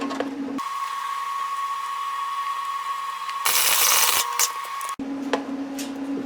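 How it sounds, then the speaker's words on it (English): Wire feed welder welding a washer onto a homemade steel chipping hammer at turned-down heat, a steady electrical hum broken by a brief, bright crackling burst of welding. "I'll go ahead and weld that"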